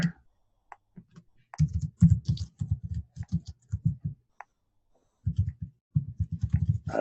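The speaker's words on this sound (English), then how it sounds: "I should be talking, but I'm like typing" Quiet, uneven bursts of key clicks from someone typing on a computer keyboard while searching for books, with short pauses between runs and no voices.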